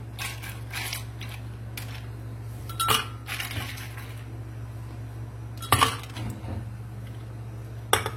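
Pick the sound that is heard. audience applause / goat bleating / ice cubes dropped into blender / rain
ice cubes dropped into blender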